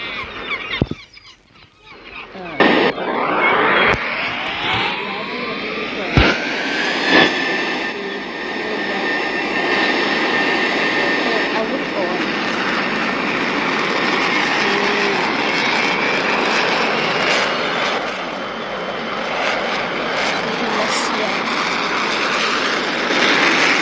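Russian fighter jet engine in a flight video game, a loud sustained roar that rises after a few seconds of spool-up and holds steady, with brief sharp transients early on.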